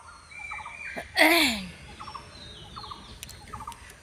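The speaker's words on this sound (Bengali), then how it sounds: "পাখিদের বিভিন্ন আওয়াজ, বিভিন্ন রকম, তারপরে নদীর একটা জলের স্রোতের আওয়াজ" Birds call from the bank of a river on a hot morning: a loud, throaty gobbling call bursts out briefly, surrounded by short repeated chirps over a soft, steady outdoor background.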